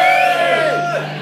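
A rock concert crowd at a cover show gives a short burst of cheering, with whoops and shouts rising and falling over a steady roar.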